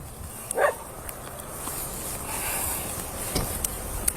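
A dog at an outdoor field site gives a single short bark near the start, then faint scattered yips and noises, set against steady outdoor noise and hiss.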